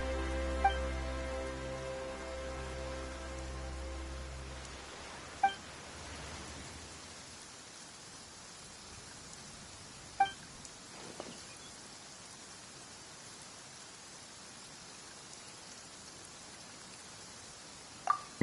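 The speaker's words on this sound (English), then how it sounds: "Why is it raining all of a sudden?" Steady rain in the video game Genshin Impact hisses throughout, with a low hum fading early on and a few sharp drip-like taps scattered across it.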